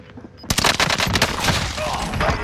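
Call of Duty Warzone gunfire erupts suddenly into a dense, loud burst of rapid shots and fusillade, continuing without pause.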